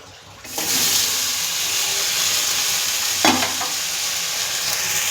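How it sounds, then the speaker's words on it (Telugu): Coconut, mint and green chillies hit hot oil with a sudden loud sizzle that holds steady and close, broken once by a scrape of a spoon against the pan. "ఇవి నూనెలో బాగా మగ్గ పెడతాను"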